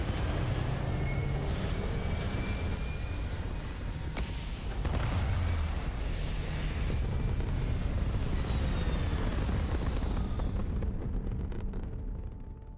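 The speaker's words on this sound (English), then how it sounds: "All thrusters firing." Spaceship thrusters firing in the Starfield video game: a loud, sustained roaring rumble with deep booming swells and hissy high texture, steady for most of the stretch before tapering slightly near the end, with no voices.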